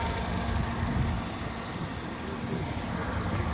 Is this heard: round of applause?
no